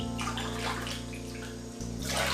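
Hot water pours into a cup in a kitchen, a continuous splashing, gurgling stream heard close and fairly loud for a couple of seconds with no talking.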